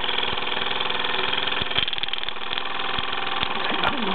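A rare Mamod SC2 model steam engine runs steadily, giving a continuous mechanical chuffing and rattling with regular soft clicks, close by and moderately loud, with no talking.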